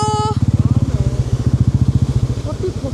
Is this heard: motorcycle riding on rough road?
yes